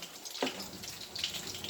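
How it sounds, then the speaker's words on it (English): Hot water runs briefly from a kitchen tap into a sink, a soft hissing splash that is quiet and close, heard while salmon patties cook nearby. "And I have me a sink of hot water here."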